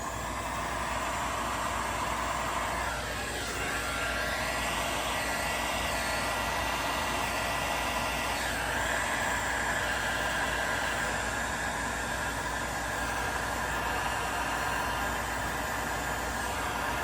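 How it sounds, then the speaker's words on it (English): Steady whoosh of a heat gun blowing hot air onto white acrylic paint for cell effects, a continuous broadband roar held at even loudness throughout with no talk. "I'm just going to hit it with a heat gun again, just gently."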